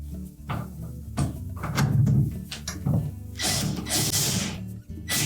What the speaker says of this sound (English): Use caution when putting these screws in that we don't get them cross-threaded.